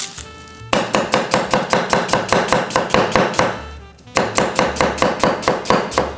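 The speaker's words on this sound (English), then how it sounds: "Now it doesn't matter how you cut your onion because we're just gonna blend it all." A knife chops onion on a cutting board for pozole, a fast, steady run of close, sharp thunks in two bursts separated by a brief pause, with no talking.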